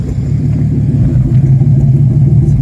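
Turbocharged BMW E36 heard up close from the rear at idle: a loud, steady, low engine rumble with a faint exhaust note and no voices.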